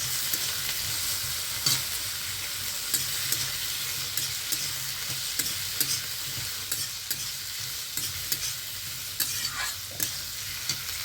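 Chopped potatoes tumble into greens frying in a pan, a steady hiss of oil running throughout with soft scraping stirs and occasional light clatter, close and alone with no voices.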